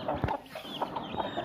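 Country chickens cluck in a caged poultry farm, giving short, repeated, mid-pitched clucks at close range over a steady background hum.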